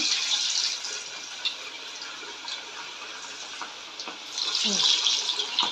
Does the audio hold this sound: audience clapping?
no